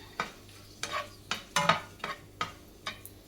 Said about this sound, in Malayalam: ഇതൊന്ന് വറുത്തെടുക്കാം.